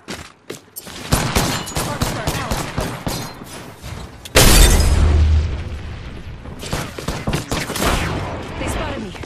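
Gunfire in a battle royale video game: dense, loud bursts of shots and booming blasts, with one heavy explosive hit partway through.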